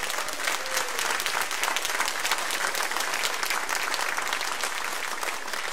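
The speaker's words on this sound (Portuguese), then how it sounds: "Vamos dar uma salva de palmas ao Senhor." A church congregation claps together in a sustained, even round of applause, a dense steady patter of many hands filling the room without pause.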